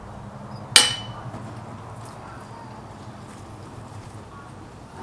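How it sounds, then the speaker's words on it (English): A single sharp hammer strike on a metal pole rings out near the start, decaying quickly into a low background hum. "Science hammer. I'll hit this side."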